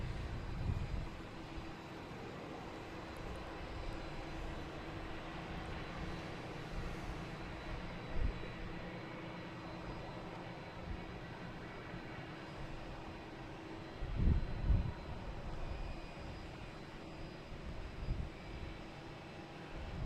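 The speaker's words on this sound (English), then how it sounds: "There's the Aer Lingus coming in from Dublin." An Aer Lingus airliner arriving from Dublin at Boston Logan Airport makes a faint, distant, broad engine rumble that holds steady, with a couple of low swells.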